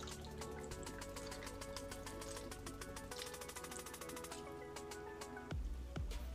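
Organic soy milk, about three cups, being poured into a blender, a steady splashing liquid stream that runs continuously at moderate loudness and ends with a couple of sharper thumps near the close.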